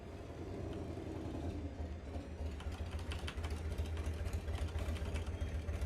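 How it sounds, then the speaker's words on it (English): A motorcycle engine runs outside, a steady low rumble that holds evenly throughout at moderate distance, with no talk over it. "Ignore the loud ass motorcycle outside"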